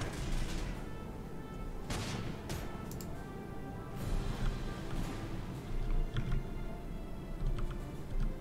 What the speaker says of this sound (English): We've got artillery everywhere.